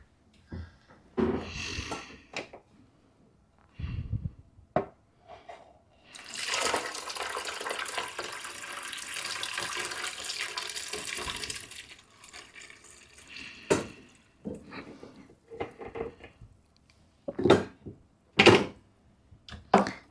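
Tap water runs into a bottle while ANSCO 131 photographic developer is mixed, a steady pour lasting several seconds, framed by clunks, handling knocks and short splashes before and after.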